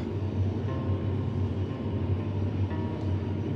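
Steady low rumble of a long, slow train rolling along rails through the Sahara, continuous and fairly loud with a droning hum and faint metallic squeals, no voices.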